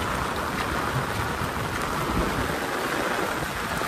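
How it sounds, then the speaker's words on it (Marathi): Heavy unseasonal rain pours down in the Konkan region, a dense and steady roar of water striking surfaces that stays loud and unbroken throughout, with no voices. "बघा बघा बघा बघा पाऊस किती लागता."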